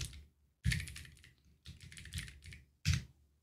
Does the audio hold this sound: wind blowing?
no